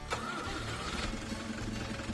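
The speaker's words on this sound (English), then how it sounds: "the engine coughed to life" A tractor engine in Farming Simulator 25 cranks and catches, a faint mid-pitched motor sputtering with uneven pulses before falling into a rough idle, with no speech.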